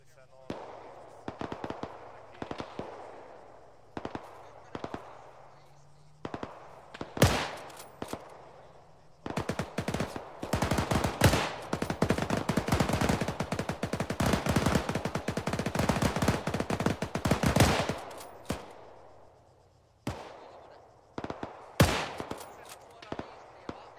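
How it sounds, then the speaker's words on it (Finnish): Bursts of gunfire coming from a forest during a battle re-enactment of the Ladoga Karelia offensive, scattered single shots and short volleys that build into a dense stretch of rapid automatic fire mid-way, then thin out again into separate reports. "sieltä ammutaan sieltä metästä"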